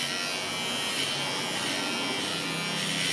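Electric clipper trimming a dog's fur, a quiet, steady close-up buzz that runs continuously without talking.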